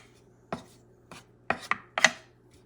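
Knife chopping bacon or salted pork fat on a board: five or six distinct, sharp chops spread unevenly, with a couple of quick ones close together near the end, close by and otherwise quiet.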